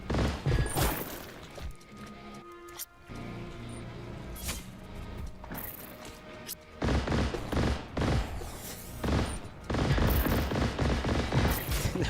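Gunfire in a video game, with rapid bursts of shots and booms over a busy game soundscape, loud and close, with no talk.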